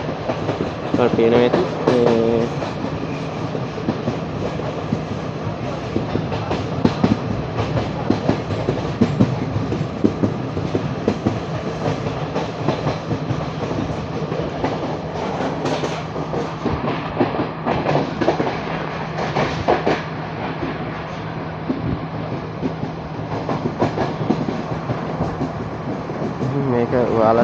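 A train runs along the rails near Kandy, Sri Lanka, with a steady, loud rumble and clatter of wheels that continues throughout, while a person talks over it now and then.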